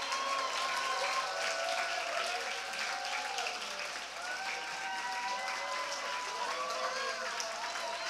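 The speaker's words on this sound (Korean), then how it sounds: "수료를 마친 기도원들에게 함께 박수 쳐주세요." A large student audience at a Seoul district joint chapel applauds the 108 prayer-course graduates, a dense, sustained wash of clapping throughout, with a few voices faintly rising underneath.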